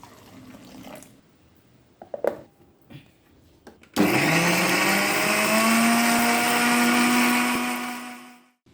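After a few soft clicks and knocks, a mixer grinder roars up abruptly, whirring loud and steady as it grinds coconut and cumin for a Kerala ash gourd curry, then winds down at the end.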